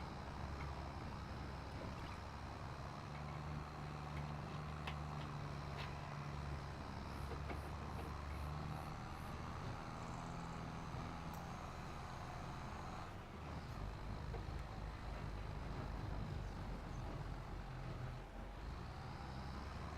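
A tractor engine idles and runs in the farming video game Farming Simulator 25, a steady low rumbling drone with faint mechanical clicks and a brief dip partway through, continuous and without speech.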